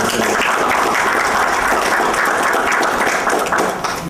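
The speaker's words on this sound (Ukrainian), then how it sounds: "Давайте оплеском подякуємо." An audience applauds at an official ceremony appointing a new regional military commissioner, a loud, dense round of clapping that fills the whole stretch before cutting off abruptly at the end.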